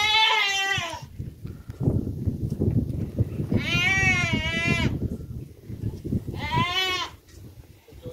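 Goats trapped in a pit bleat loudly and repeatedly, three wavering cries spread over several seconds above a rough, noisy background of movement and rustling.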